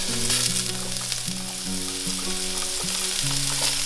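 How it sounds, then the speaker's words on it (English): Two tablespoons of diced onion sautéing in a pan, giving a steady, close sizzle that runs unbroken from start to finish, with tonal background music playing underneath. "I'm just going to let those kind of soften up and saute"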